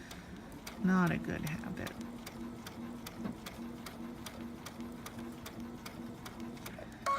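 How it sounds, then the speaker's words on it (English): On a sewing machine bed, small metal pins drop and clink in light, sparse ticks among the hum and whir of the machine, while a voice speaks briefly. "You can hear the pins on my machine bed falling"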